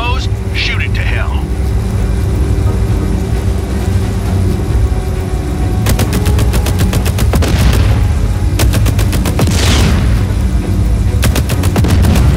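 Rapid bursts of automatic gunfire in a Just Cause 4 game scene shooting at an exposed relay, loud and close, with several rattling volleys over a dense droning background and a voice talking.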